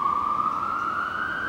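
An emergency vehicle siren holds a steady, slowly rising wail for a moment, loud and continuous with faint traffic noise underneath.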